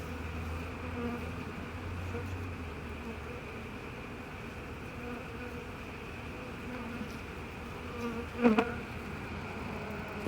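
Honey bees buzz steadily close by during removal of a colony from a cellphone tower on a rainy day, a continuous droning hum with a brief sharp knock near the end.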